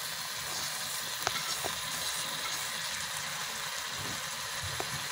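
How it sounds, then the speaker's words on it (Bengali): Spinach dropped into a hot pan with spices and grated potato gives a steady, faint sizzle with a couple of brief clicks, no voices. "এখন আমি পালং শাকে দিয়ে দিচ্ছি।"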